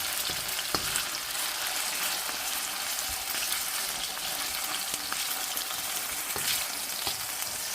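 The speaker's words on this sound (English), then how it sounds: "We're just going to fry that a little bit until it's brown." Food frying in a pan as it browns, a constant bright sizzle and crackle with occasional pops and stirring clicks, close and steady.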